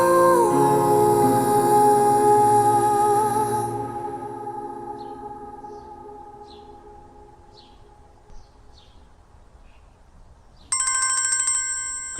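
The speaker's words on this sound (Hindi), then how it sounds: "किसका फोन है?" A phone ringtone plays loudly as a rising electronic melody, fades into sparse faint chirps, then a sharp bright ring bursts back in near the end, all with no one talking.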